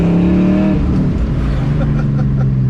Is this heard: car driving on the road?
yes